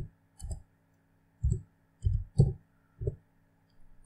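Five computer mouse clicks land one by one at uneven intervals, each a soft, close thump with a light click on top, separated by silence while navigating Windows settings.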